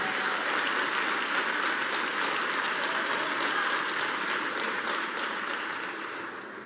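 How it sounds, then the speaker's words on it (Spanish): A church congregation claps together at a worship service, a dense, sustained burst of applause from a crowd that fills the room before tapering off near the end, with no talking over it. "Aplauda al Rey de Gloria."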